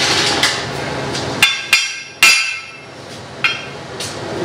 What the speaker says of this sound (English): So I need to tap that with a hammer.